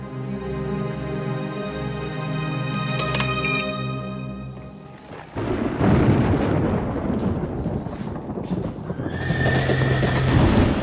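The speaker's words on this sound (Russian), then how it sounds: "Слышу пару лошадей, может больше." A long, drawn-out whinny from a couple or more horses rings over a steady low rumble, followed by a burst of loud, rough noise and a thin whistling tone near the end.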